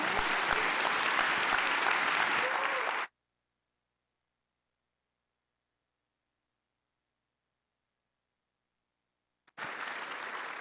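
Conference audience at a climate-focused summer event breaks into steady, dense applause for about three seconds, followed by a long dead silence before clapping resumes abruptly near the end.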